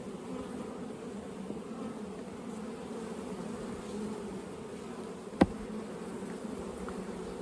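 Honey bees hum steadily in a bee yard during a hive inspection, a continuous close buzz with one brief sharp click near the end.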